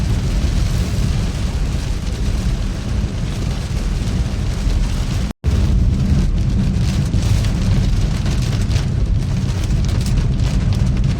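Heavy rain drums hard and constantly on a moving car driving home from work through flooding, over the engine and road rumble, with one brief dropout midway.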